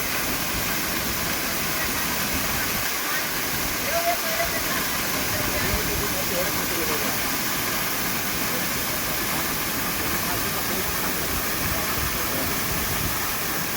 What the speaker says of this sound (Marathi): छत्री पाणी पडत आहे त्यावर